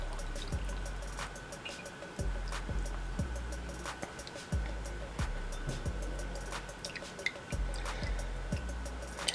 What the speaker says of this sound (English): I'm going to strain that into our cup